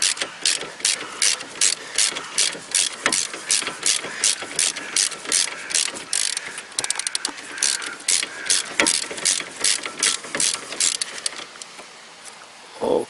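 Rapid ratchet clicks from a socket wrench loosening a brake caliper bolt on an Opel Corsa, sounding in close, repeated bursts with short pauses between strokes, loud and clear with no talk.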